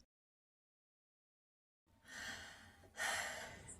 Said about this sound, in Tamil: என்னடி இப்படி மூச்சு வாங்குது?